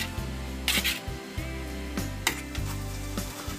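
Sliced mushrooms braise with shallots in a pan, a steady quiet sizzle broken by a few brief stirring scrapes, close up and with no talking.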